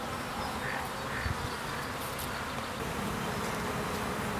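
Honey bees drone in a dense, continuous buzz over an opened beehive, steady and close throughout, with no talk.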